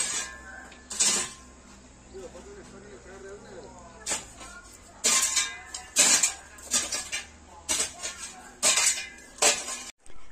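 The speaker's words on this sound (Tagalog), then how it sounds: "katapos lang namin kumain, maghugas ng pinggan" Dishes, pots and cutlery clatter and clink in repeated sharp bursts during washing up after a meal, close by, with quieter stretches of running handling between the louder knocks.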